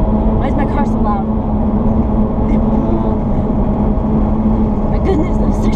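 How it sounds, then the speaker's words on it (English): Loud interior roar of a car while driving, a steady low rumble with a droning hum that runs without pause, and brief voices break in over it. "Why is my car so loud?"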